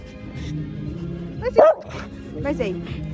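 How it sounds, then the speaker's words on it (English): A dog at a busy fair market gives a single sharp bark midway, close by and cutting briefly above steady crowd chatter and nearby voices. "don't bark at everybody."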